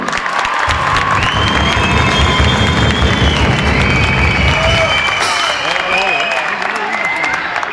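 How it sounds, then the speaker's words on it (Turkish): An audience applauds a Mehter band, the Ottoman-style military band, at a formal gathering: steady, loud, close clapping with crowd voices and cheering mixed in throughout. "Mehter takımımıza öncelikle kuvvetli bir alkışlar istiyorum"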